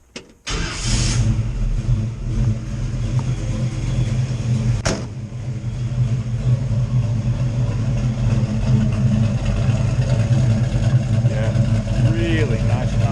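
A 1962 Chevrolet C10 pickup with a Black Widow Venom 250 exhaust cranks over and fires, then settles into a steady, deep, rumbling idle that stays loud and close for the rest of the clip.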